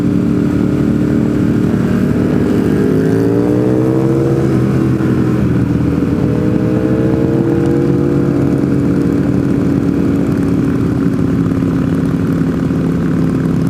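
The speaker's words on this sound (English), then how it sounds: "That V4 is so loud." A loud Ducati V4 motorcycle roars past close by on a road, its engine pitch rising and bending as it goes by, then a steady heavy engine drone carries on with no voices heard.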